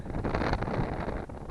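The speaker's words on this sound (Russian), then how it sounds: "Сильно буранит." Strong wind in a snowstorm on open ice during winter fishing roars steadily against the microphone as a loud, continuous broadband rush, with no voices.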